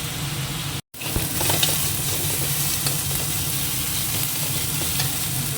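A spice paste thinned with a little water cooks in a pan with a loud, continuous sizzle. The sound cuts out for a moment early on, then the bubbling fry resumes with faint stirring, and no voices are heard.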